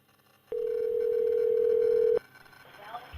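A steady telephone tone from a recorded 911 emergency call sounds for under two seconds, loud and unbroken, then stops, leaving faint line hiss and murmuring.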